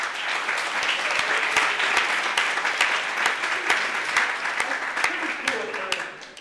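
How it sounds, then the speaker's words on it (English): An audience at a music and web keynote panel bursts into sustained applause, dense overlapping clapping with voices faintly mixed in, tapering off at the end. "I'd love it if everybody gave a round of applause to them."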